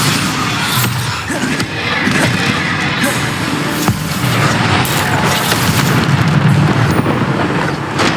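Bombarda spell blasts in the Hogwarts Legacy video game sound as loud, dense rumbling booms layered over continuous combat noise, with a thick low-end roar sustained throughout.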